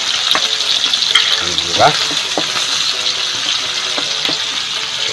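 Garlic and onion sautéing in a pan, a steady sizzle with a few scrapes and stirring clicks; a brief voice speaks once.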